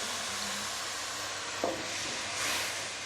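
Tamarind is stirred into sautéed fish curry masala in a pan, a soft continuous sizzle with a brief scrape of the spoon and a rising hiss of steam near the end, quiet and without talk.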